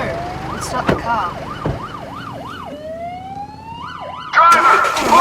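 A police car siren wails near and loud in repeated rising-and-falling sweeps, then holds a long rising tone before the wail resumes, with traffic noise and a brief shout underneath.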